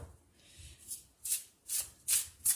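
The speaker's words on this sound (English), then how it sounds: "let's draw some more cards" Tarot cards are shuffled and drawn by hand, giving soft papery riffles and rustles followed by a series of crisp snapping card flicks, close and fairly quiet, with no talk.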